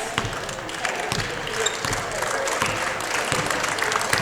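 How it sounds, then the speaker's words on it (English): Audience applause in an indoor gym after a men's semi-final basketball game, scattered clapping from a modest crowd mixed with a few ball bounces and thuds, moderately loud and fairly close. "Big round of applause from the audience."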